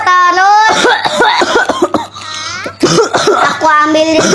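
A child gives a quick burst of close, loud coughs mixed with laughter and high, playful vocal sounds, and the cough sounds like an exaggerated imitation.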